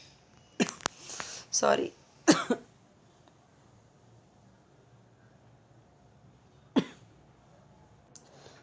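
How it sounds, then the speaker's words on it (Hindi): Several sharp coughs triggered by chili fumes from cooking nearby, clustered in the first three seconds with another cough later, close to a teacher's microphone in an indoor classroom setting, followed by a brief spoken apology. "पता नहीं कौन सब्जी बना रहा था ऐसा कि पूरा मिर्ची की वजह से खांसी आने लगा"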